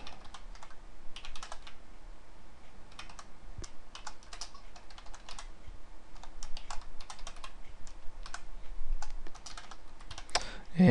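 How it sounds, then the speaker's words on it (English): Rapid, uneven bursts of typing on a computer keyboard, close and crisp, clattering keys in quick flurries with brief pauses, ending in a louder knock. "And you see I'm typing rather hurriedly."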